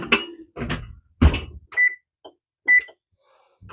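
An oven control panel being set to preheat, with a few short electronic beeps and button presses, close by and otherwise quiet, with no talk.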